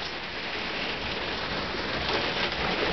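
Steady rain hisses continuously, a dense even patter with no voices, filling the whole space at moderate loudness.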